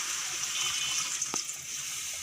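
Liquid poured into a pan of radish curry being cooked, a steady close splash and trickle with one brief sharper splash midway, no talking.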